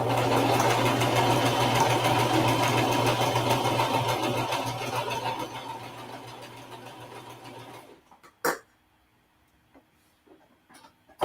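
A sewing machine stitches a beginner quilt block in a fast, even, whirring run that slows and stops, followed by near silence and a few faint clicks.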